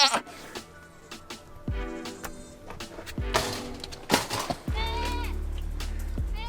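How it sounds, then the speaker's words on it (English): A free goat named Daisy gives several wavering bleats, loud and close, with a sustained low engine rumble and rattles during a car ride in the second half. "We just got this free goat."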